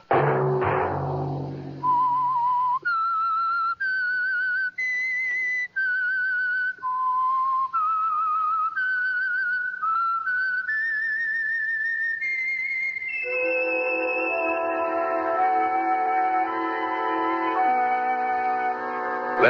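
Whistled theme of the radio mystery show The Whistler, a lone eerie melody of sustained, stepping notes with echo, ending as an orchestral chord swells beneath it.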